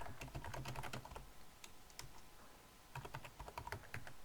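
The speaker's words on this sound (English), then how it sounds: "So we're going to type our purpose in." Computer keyboard keys clatter in quick, uneven bursts of typing, pausing briefly in the middle before resuming, close and fairly quiet with no voices.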